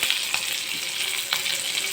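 Curry leaves hit hot tempering oil with urad dal, cumin and mustard seeds, giving a steady, close, hissing sizzle with light crackles throughout and no talk.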